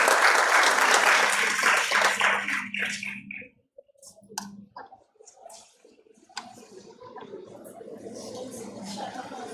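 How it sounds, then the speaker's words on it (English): Audience applause at a college cultural programme during a NAAC peer team visit, a full burst of crowd clapping that fades out after about three seconds, followed by quieter room noise and scattered sounds. "Please give ma'am a huge round of applause."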